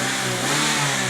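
A Suzuki Swift 1.3 GL with a timing chain revs close by, giving a loud, sustained engine drone with a steady pitch that rises slightly, heard alone with no talking.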